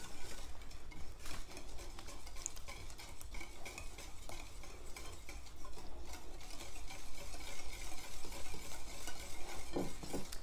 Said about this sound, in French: Alors ensuite, j'ajoute le beurre. Donc le beurre fondu. On fait attention qu'il ne soit pas trop chaud. Et je mélange à nouveau.